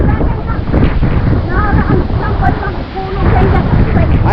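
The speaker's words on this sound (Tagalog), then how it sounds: "talaga may malakas yan ng hangin" Strong typhoon wind roars steadily and loudly around the microphone, a constant rushing wash that lasts throughout, with people talking over it.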